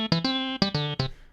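Roland TB-3 step sequencer pattern playing alone: six short, bright synth notes with buzzy harmonics, moving between a couple of low pitches in a quick, choppy rhythm, then decaying.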